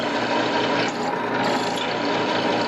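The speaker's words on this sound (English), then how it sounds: "Now this is really just a pilot hole. And I'm drilling both pieces at once." A power drill bores a pilot hole through two stacked metal pieces at once, a loud, steady grinding whir that runs without pause.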